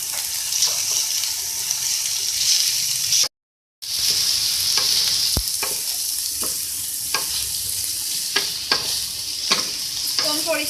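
Capsicum and spring onions being stirred in a sizzling frying pan for a vegetable samosa filling, with steady frying hiss and repeated spatula scrapes and clicks close up, briefly cut off in the middle.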